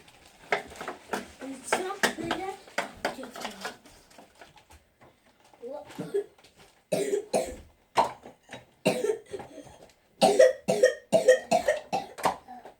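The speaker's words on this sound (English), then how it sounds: "Coughing." Repeated harsh coughing in bursts, fairly close, with brief pauses between fits and some throat clearing.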